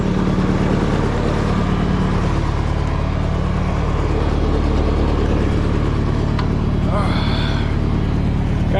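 Roughly 44-horsepower tractor fitted with dual wheels running steadily, a loud low engine drone close by with constant rumble throughout and a brief higher whine near the end.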